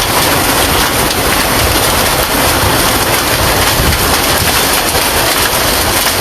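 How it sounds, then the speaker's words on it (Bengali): Heavy hailstorm in Sylhet with pouring rain and strong wind, a dense, loud and unbroken roar of rain and hail with no voices. "প্রচুর পরিমাণ বৃষ্টি হইতেছে সাথে বাতাস জোর তুফান হইতেছে"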